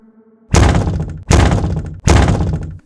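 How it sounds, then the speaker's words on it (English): Three loud, heavy pounding blows on a door, evenly spaced about three quarters of a second apart, each booming thud decaying slowly into the next. "The knocking turned into a louder pounding"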